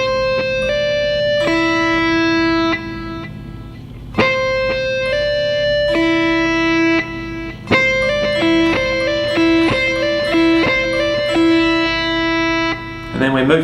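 Distorted rock guitar lick of hammer-ons and pull-offs to an open string, sustained ringing notes with quick repeated articulations, loud and close with no talking.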